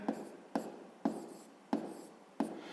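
Numbers are written by hand while working a fifth-grade arithmetic addition exercise: a pen or chalk makes five or six evenly spaced scratching strokes, each sharp at the start and fading, close and faint, with no talk.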